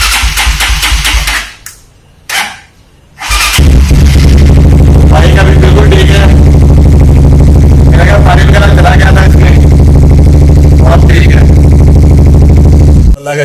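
A motorcycle is kick-started after water got into it: brief cranking and sputters, then the engine catches and settles into a loud, steady, close idle that runs continuously to the end.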